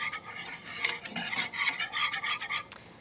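A roux of flour being stirred into melted butter in a pot, giving a close, steady scraping and rubbing with a few sharper utensil strokes, no voices.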